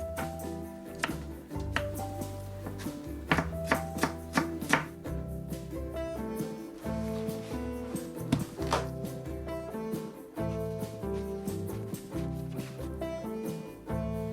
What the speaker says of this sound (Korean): 새송이를 먹기 좋은 크기로 잘라서 얇게 채를 썰어주세요.